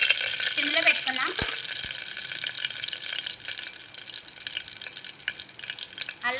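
Bay leaf and whole garam masala spices frying in hot oil in a pan for tomato rice while being stirred: a steady close sizzle with a few sharp clicks of the spoon against the pan.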